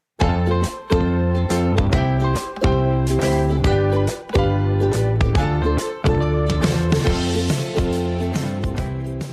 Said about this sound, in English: Would you say that music sounded happy or playful?